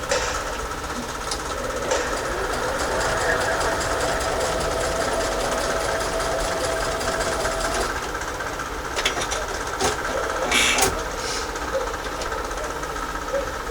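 A sewing machine stitching a star quilt runs in a steady, fast mechanical rattle close by, with a few sharper clicks and knocks along the way.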